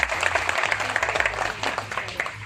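A crowd claps for Chandigarh police honored as Covid warriors in Indira Colony, Manimajra: sustained, lively applause from a gathering, with a low hum underneath throughout.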